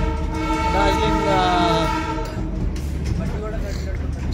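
The Darjeeling toy train runs through town streets, its loud horn sounding in a wavering tone for around two seconds before fading into the low rumble of the moving train.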